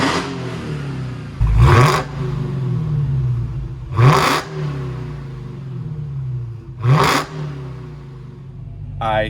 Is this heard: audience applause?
no